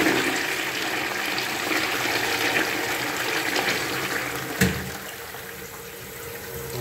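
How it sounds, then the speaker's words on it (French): A wall-hung toilet in a newly finished bathroom is flushed a second time, a loud continuous rush of water swirling and draining with a brief knock partway through, with no voices. "On va vérifier avec la deuxième chasse d'eau."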